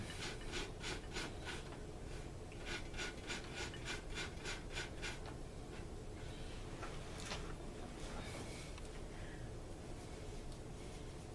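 A tarnished metal eared washer from a South Bend 750 spinning reel is rubbed clean by hand, giving quiet, close scratchy strokes in quick bursts with short pauses and no talking.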